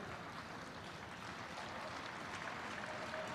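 Faint, distant crowd applause at the Launceston Cycling Carnival, a steady wash of clapping for a cyclist heard continuously across the track.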